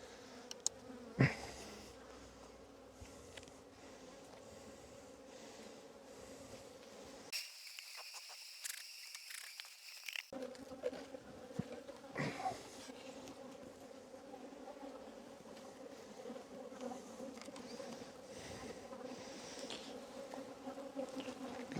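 Honeybees at an open hive during a Demaree split, buzzing loudly and continuously up close, with a short higher-pitched whine partway through and a few light knocks.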